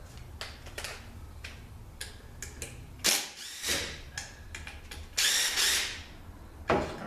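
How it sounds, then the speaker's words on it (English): Bolts being removed from a NAG1 automatic transmission during teardown, heard as a series of sharp mechanical ticks and ratcheting bursts, with several louder close-up tool whirs, and no talk. "I'm going to take the two bolts out here."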